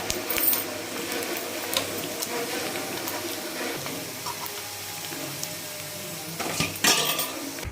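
Fried broiler chicken pieces are lifted out of a pan of hot oil, with a steady sizzle and intermittent clinks and scrapes of a utensil against the pan, close and moderately quiet.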